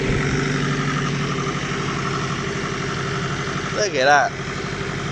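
A tractor engine idles with a steady low rumble, and a person speaks briefly over it near the end.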